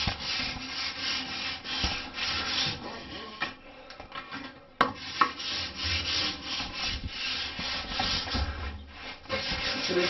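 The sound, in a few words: sanding a bathtub surface before acrylic coating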